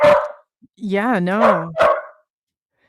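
A dog barks and yips nearby in a few sharp, loud bursts mixed with people talking.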